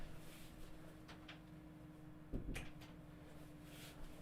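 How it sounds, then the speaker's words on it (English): A door is shut indoors in a quiet house at night, giving one soft thud about midway through a near-silent room with faint background hum. "Let me shut the door."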